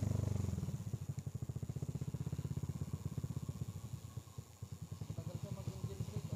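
A Yamaha Mio Mxi scooter engine runs steadily while riding in cold Baguio City, its rapid pulsing putter continuous and close, with brief dips in revs, and a voice talks over it.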